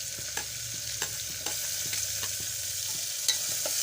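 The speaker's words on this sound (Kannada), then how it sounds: "ಈಗ ಕರಿಬೇವು ಹಾಕ್ತೀನಿ ರೀ ಆಗೋಣ ಉಳ್ಳಾಗಡ್ಡೆ ಹಾಕ್ತೀನಿ ರೀ" Chopped onion hitting hot oil with curry leaves in a pan for a simple pulao, a steady close sizzle broken by regular spoon taps and stirring scrapes.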